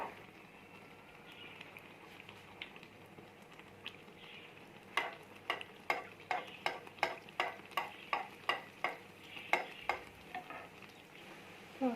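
Beignet dough fries in oil over medium heat with a soft, low bubbling hiss, then a run of regular sharp ticking spatters or ladle taps, about one per half second, close and crisp.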